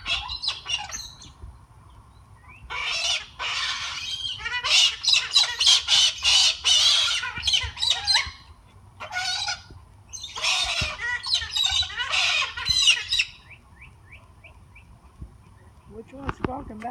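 Several pet birds squawk loudly back and forth in bursts with short pauses between calls, close to the microphone, over a faint low background hum.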